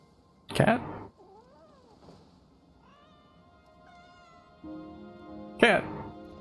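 A cat meows in the Wuthering Waves video game, two sharp loud cries separated by a few seconds, with softer tonal sounds and a voice between them.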